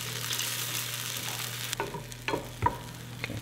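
A mixture in a pot stirred with a spoon, a low hiss fading away, then a few sharp close scrapes and clinks against the pot, with no voices.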